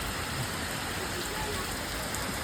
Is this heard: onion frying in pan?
no